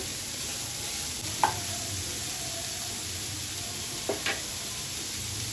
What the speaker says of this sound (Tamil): கேரட் போட்டு நல்லா வதக்கிக்கோங்க